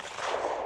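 A shotgun fires at a clay target during a shooting lesson on chandelles and rolling crossers, a single sharp report heard alone in open air.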